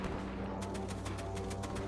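Rapid bursts of gunfire in a WWII beach invasion video game, a steady run of evenly spaced shots over a constant low rumble of battle, fairly loud and continuous with no talking.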